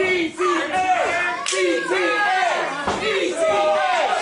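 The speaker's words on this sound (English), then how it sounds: "listen to this crowd" A loud wrestling crowd roars and chants in an arena during a tag team championship match while an announcer's voice rises and falls over the noise.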